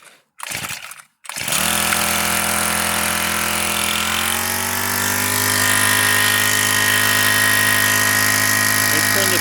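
A small engine driving a homemade 12V alternator generator. After a couple of brief cranking bursts it catches and settles into a steady, loud, buzzing idle that runs on evenly.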